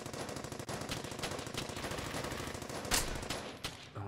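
Sustained automatic gunfire from a World War II shooter game, Brothers in Arms: Hell's Highway, rattles in rapid bursts close by, with a louder crack near the end and no talk.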